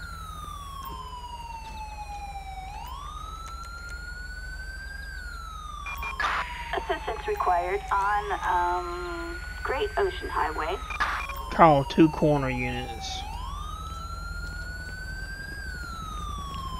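Police siren in Grand Theft Auto V on the Great Ocean Highway: a loud, steady wailing tone that sweeps up and down for the whole stretch, with clipped radio dispatch chatter breaking in over the middle.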